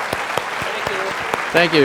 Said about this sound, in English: just another round of applause for these wonderful organizations